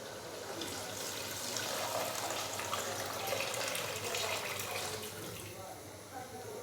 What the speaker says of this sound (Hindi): तो अभी मैं इसके अंदर पानी डाल दूंगा।